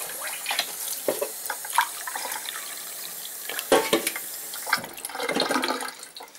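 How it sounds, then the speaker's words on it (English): Water slowly poured from a cup into a bowl of batter for vada pav, a trickling, splashing pour with brief breaks and a louder stream near the end, close and without talk. "So next stage is just going to slowly add some water and then whisk it into a nice batter."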